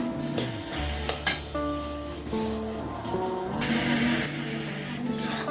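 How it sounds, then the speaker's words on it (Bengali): Grated coconut stirred in a pan over low to medium heat for narkel naru, soft scraping and sizzling with light clinks of the spatula against the pan, close and continuous, with faint voice and music underneath. "এখন আমি নাড়াচাড়া দিয়ে নিচ্ছি"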